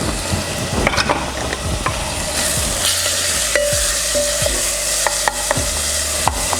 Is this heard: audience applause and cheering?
no